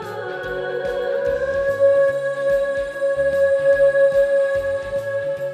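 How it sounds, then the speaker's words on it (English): A female vocal frozen in one spot by a pulse stretch algorithm holds as a steady, droning sustained tone over a pulsing, rhythmic low backing pattern in a song, fairly loud and continuous throughout. "I also did a thing where I froze her vocal in this one spot using an algorithm called pulse"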